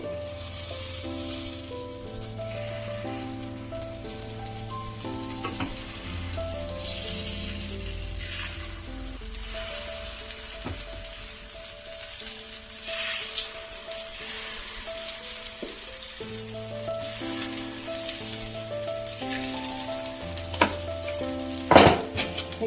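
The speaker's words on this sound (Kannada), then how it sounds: "ಇದಕ್ಕೆ ಹಿಟ್ಟು ಹಾಕೊಳ್ಳೋಣ. ಲೋ ಫ್ಲೇಮಲ್ಲಿ ಇಟ್ಟಿದ್ದೀನಿ, ಜಾಸ್ತಿ ಉರಿ ಮಾಡಬೇಡಿ." Paddu made from leftover dosa batter fries on low flame in a paddu pan, a soft continuous sizzle with occasional clinks of a utensil, heard under steady background music.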